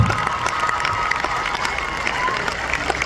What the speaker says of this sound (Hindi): जोरदार वाली तालियां बजाओ।